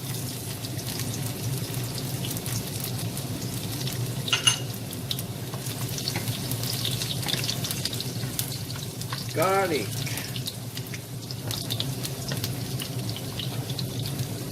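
Chopped garlic frying in hot oil for pakbet, a steady crackling sizzle that holds for the whole stretch with a brief clink partway through and a faint vocal sound near the end.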